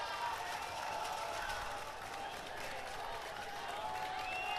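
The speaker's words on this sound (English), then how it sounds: "You can hear the noise from the Williams crowd right now." Home crowd at a Williams lacrosse game against Amherst roars steadily in the distance, broad cheering mixed with applause, a continuous wash of noise at moderate level with no single voice standing out.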